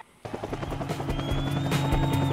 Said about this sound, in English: Got a helicopter up there.